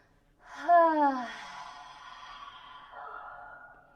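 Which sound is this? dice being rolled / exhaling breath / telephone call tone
exhaling breath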